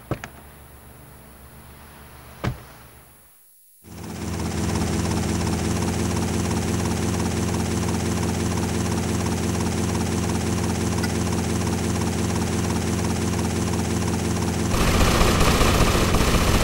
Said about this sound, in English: Take my copter.